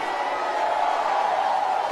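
A church congregation shouts and cheers in praise to the king, a dense, continuous roar of many voices that stays loud and steady throughout.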